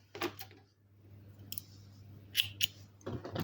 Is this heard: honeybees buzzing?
no